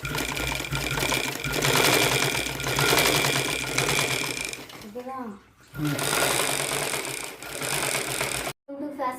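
A low-cost motorised tailoring sewing machine with a fitted motor runs steadily and loudly, stops briefly partway through, then starts again and runs on before cutting off near the end.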